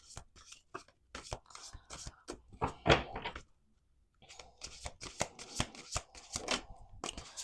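Playing cards are shuffled, flicked and laid down on a table in quick papery bursts and taps, close and crisp, with a short quiet gap midway and no talking.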